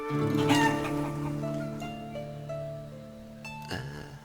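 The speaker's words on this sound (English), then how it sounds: "we have finally built a chicken coop, and how many chickens?" Chickens in a coop in the village-building game Lif, with soft clucks and tonal calls sounding over a steady layered game music bed, no talk.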